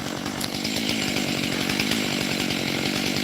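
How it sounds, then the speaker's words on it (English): A chainsaw cuts through a tree trunk outdoors, its engine running loud and steady close by with a continuous buzzing snarl. "Then just crank up my my timber tool and"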